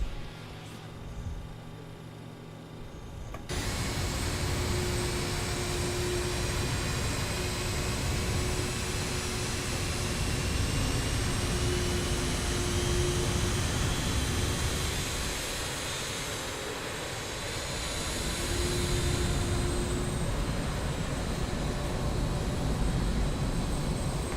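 Simulated jet engines of an Aer Lingus RJ85 airliner in Microsoft Flight Simulator 2020 rise after a brief quiet start into a loud, steady whining roar that holds without a break, with no voices.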